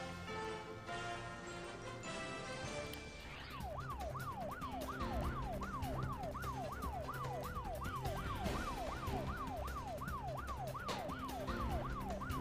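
Fire engine sirens wail at a burning coal-laden freight train in Kanpur, a loud rising-and-falling electronic siren cycling steadily over rumbling traffic after a brief burst of background noise.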